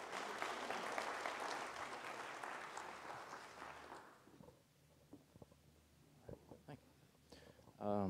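Loud crowd applause at a county candidate forum fills the first few seconds, then fades into a quiet room with scattered knocks and shuffles before a voice begins.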